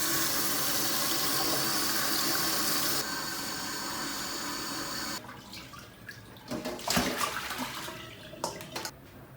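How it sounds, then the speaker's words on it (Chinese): Whole rabbit being rinsed under a running tap in a kitchen sink, a loud steady gush of water that drops in level, then breaks into uneven splashing and handling as the meat is washed. "我们先把它清洗一下哈，内脏干我们就不要了。"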